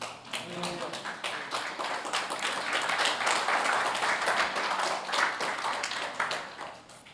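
A church congregation applauds, swelling into dense, fairly loud clapping through the middle before it thins out, with voices talking over the claps.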